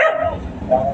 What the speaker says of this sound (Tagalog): Tumatahol na kasi si Access